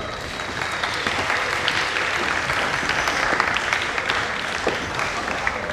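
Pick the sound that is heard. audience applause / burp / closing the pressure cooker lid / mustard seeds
audience applause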